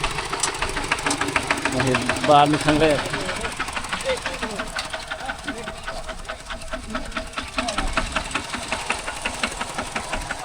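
A walking tractor's small single-cylinder engine chugs steadily with a rapid knocking beat throughout, while people talk over it nearby in a rural village.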